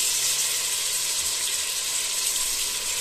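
Tomatoes hitting hot oil for coriander rice, a steady bright sizzle and hiss running without a break, close and loud.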